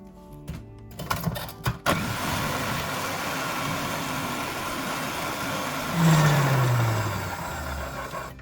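Red cabbage being shredded in an electric kitchen shredder, a continuous loud motor drone with a grinding, chopping texture, starting after a few knocks and swelling toward the end as the motor pitch sinks.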